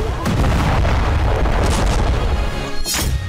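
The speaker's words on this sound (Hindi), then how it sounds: "जबरदस्त धमाके का ये वीडियो इजरायली मालवाहक जहाज का बताया जा रहा है, जिसे हूती ने समुद्र में बैलिस्टिक मिसाइल से उड़ा दी" A heavy explosion rips through an Israeli cargo ship at sea after a ballistic missile strike, a loud, sustained rumbling boom with crackling bursts and a sharp crack near the end.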